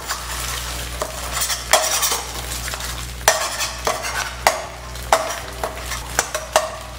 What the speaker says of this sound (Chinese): 这时候就可以把蛋炒散。